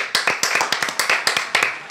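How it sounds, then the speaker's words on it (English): Hands clap in a quick, steady run of about a dozen sharp, close claps, loud and evenly spaced. "Claps."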